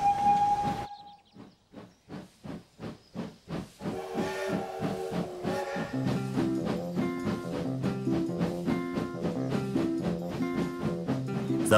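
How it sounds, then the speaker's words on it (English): A short steam locomotive whistle toot at a level crossing, then rhythmic locomotive chuffing that grows steadier as music fades in underneath. "another toot from the driver tells people nearby"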